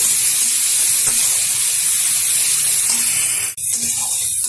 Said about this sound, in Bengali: এখন দিয়ে দেবো এখানে পেঁয়াজ বাটা। পেঁয়াজটা একটু নেড়ে চেড়ে নেব।